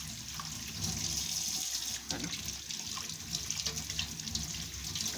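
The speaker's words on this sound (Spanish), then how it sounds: "Vamos a cerrar la canilla que me putean estos muchachos con la canilla." Tap running steadily as a constant close hiss of flowing water, someone speaking Spanish over it.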